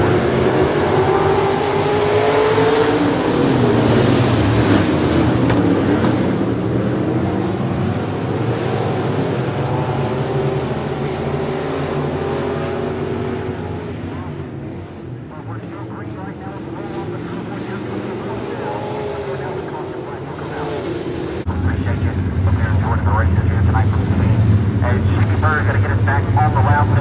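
A race car engine roars along the track, swelling and fading as it passes and accelerates off turn four, with a commentator talking over the engine noise.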